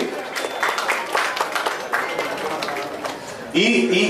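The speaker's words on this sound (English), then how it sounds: "A round of applause for Sri Krishnamurthy" An audience applauds an executive producer at a film event, with dense clapping throughout and a louder, tonal sound entering near the end.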